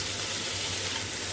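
Taro (kochu) slices frying in a pan of oil for Bengali kochu bhaja, giving a brief, steady, close sizzle with no talk.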